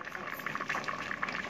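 Dobradinha, a Brazilian tripe and bean stew, bubbles in a covered pot with a soft continuous simmering hiss and small pops throughout.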